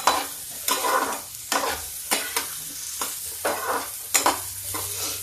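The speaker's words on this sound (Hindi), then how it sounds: "अब ये प्याज भून लेते हैं हल्का सा।" Onions lightly frying in a pan, a continuous close sizzle punctuated by regular scraping stirs of a spoon roughly every second, with no voices over it.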